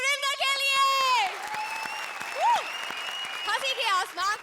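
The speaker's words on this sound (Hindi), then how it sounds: "जोरदार तालियां हमारे अपने सुपरस्टार सुरिंदर के लिए" Applause crackles steadily from a comedy show audience while tonal, sliding voices or music ring out loudly over it.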